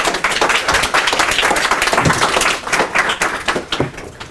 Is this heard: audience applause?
yes